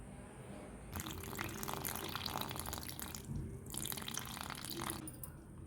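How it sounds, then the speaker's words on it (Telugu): Boiled water is poured into flour to make puri dough, heard as two close splashing pours separated by a short pause, fairly soft. "ఇప్పుడు ఈ వాటర్ అయితే వేసుకోవాలి."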